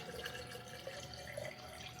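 Filtered water streams steadily into a carafe as part of a picnic drink setup, a continuous close pour with a light trickling splash and no talking.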